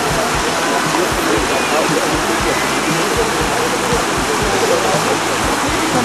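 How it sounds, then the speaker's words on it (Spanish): Loud, rushing floodwater pours and churns under a bridge continuously, a thick roaring torrent with no pauses, close by. "ya es espectacular la riada que baja por el puente"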